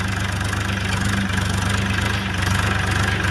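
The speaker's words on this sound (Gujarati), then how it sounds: "જો ટ્રેક્ટર ચાલુ, ટ્રેક્ટર આવી રહ્યું છે" A tractor engine runs steadily in a farm field, a loud, continuous low rumble with even throbbing, close by and alone without talk.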